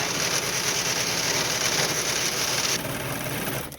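A sewing machine stitches a pajama neck seam, a fast continuous mechanical whirr close by that runs steadily for several seconds, then drops slightly and stops at the end.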